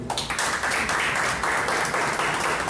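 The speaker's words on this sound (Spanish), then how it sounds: "Un aplauso también." Audience clapping at a book presentation during an international book fair, a continuous crowded patter of hands filling the clip at even strength.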